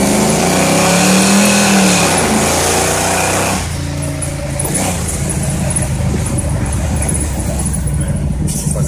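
Chevrolet Monte Carlo SS engine heard from inside the car while driving, a loud sustained drone that drops and shifts around the downshift midway, with rumbling exhaust and passengers talking over it.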